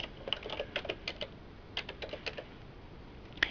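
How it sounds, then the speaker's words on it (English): Typing on a computer keyboard, a quick irregular run of close, light key clicks in small bursts with brief pauses between them, no voices. "If you would like to change it, just start typing now."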